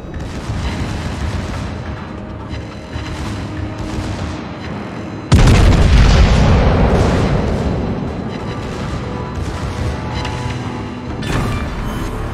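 Heavy naval gunfire and warship explosions in a sea-battle video game: a continuous rumbling barrage broken by one huge close blast midway, with sustained booms rolling on after it.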